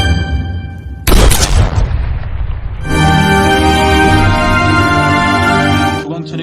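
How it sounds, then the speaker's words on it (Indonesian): A film gunshot, a sudden loud boom with a ringing tail that settles into a sustained, droning musical score. "dia mengambil pistol di saku celana Kim dan langsung headshot"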